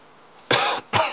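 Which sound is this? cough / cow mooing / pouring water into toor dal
cough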